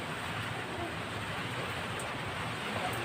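Steady rain pours down on potted garden plants outdoors in windy weather, a dense continuous hiss with no distinct drops standing out, moderately loud and unbroken throughout.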